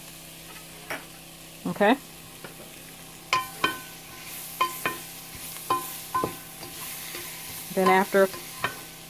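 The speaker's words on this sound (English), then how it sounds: "You saute these vegetables until tender." Vegetables for a crawfish étouffée sauté in a pan, a steady low sizzle punctuated by spatula scrapes and stirring knocks, with someone briefly talking over it.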